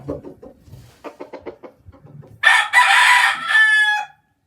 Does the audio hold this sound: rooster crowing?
yes